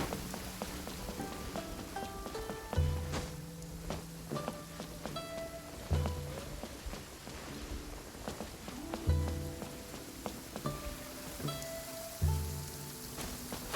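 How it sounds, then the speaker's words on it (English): Rain falls in the video game Genshin Impact, a steady soft patter on surfaces that stays quiet and constant, with occasional light thumps and tonal game sounds layered over it. "Do we really gotta sit outside in the rain?"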